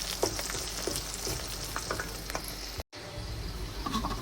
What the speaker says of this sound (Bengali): আস্ত রসুন একটু ভেজে নেব।